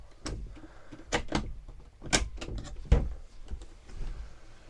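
A door opens onto a chemical toilet cubicle inside a converted campervan, giving a series of close clunks, latch clicks and a sharp knock, spaced irregularly.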